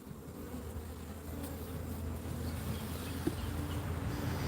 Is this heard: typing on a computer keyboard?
no